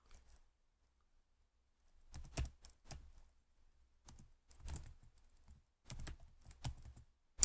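Typing on a computer keyboard while entering HTML code: quiet, close clicks in short irregular bursts separated by silent pauses.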